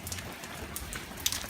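Rain falls outdoors, a faint, steady patter of drops on surfaces over a short stretch, with no talking.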